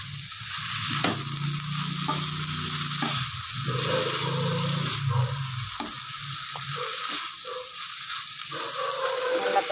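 Banana flower and drumstick leaves stir-frying for poriyal on a low flame, a steady sizzle with scraping stirs and soft clinks throughout, no voices.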